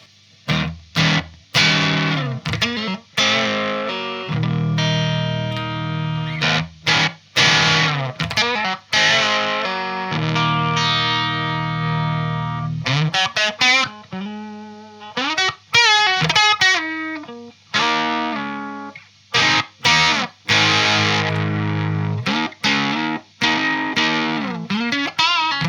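Electric guitar played through a Way Huge Swollen Pickle Jumbo Fuzz MKIII pedal by Jim Dunlop, giving thick, sustained fuzzy chords and riffs that come in bursts with brief gaps, loud and close, with no talking.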